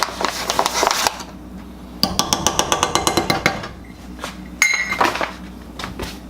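A whisk rattles and taps rhythmically against a metal pan while flour is worked into melted butter, quick clinking strokes in bursts with short pauses between.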